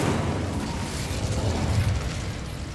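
An Incendio fire spell cast in Hogwarts Legacy, a loud continuous rumbling roar of flame with crackling bursts, sustained throughout and close, without voices.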